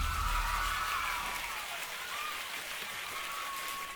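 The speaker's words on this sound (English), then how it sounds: "Give it a round of applause, chat." A round of applause from an audience, fairly faint and steady for about four seconds with no voices over it.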